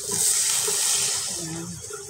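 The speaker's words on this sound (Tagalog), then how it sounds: "Lagyan na natin ng tubig." Water pours into a cooking pot of chicken misua with patola, a steady bright splashing rush that tapers slightly toward the end, close by and without voices.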